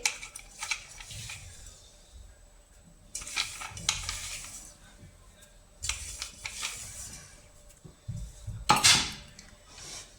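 Dry fruit mixture being stirred into jaggery syrup for gum ladoos, heard as intermittent bursts of spoon scraping and clattering against the pan, with one louder metallic clank near the end.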